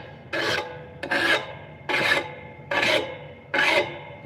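A blade is worked over 80 grit abrasive in five even, rasping strokes, each a close scraping rub separated by brief pauses in a steady rhythm.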